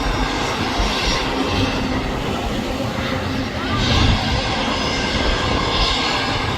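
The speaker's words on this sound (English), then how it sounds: "we can hear them starting up the engine. They're revving it up." Loud, sustained roar of a jet airliner engine revving up at Maho Beach, St Martin, with a rising whine and gentle surges, heard from a moderate distance; faint voices underneath.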